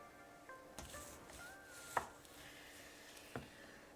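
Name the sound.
knife slicing venison smoked summer sausage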